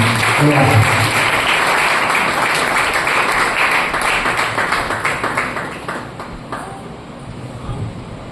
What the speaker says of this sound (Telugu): మన సంఘ తరపున చప్పట్లు కొడుతున్నారు